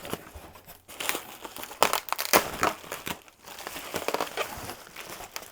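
Book packaging is torn open and crumpled close by during an unboxing, with continuous crinkling, rustling and sharper ripping bursts.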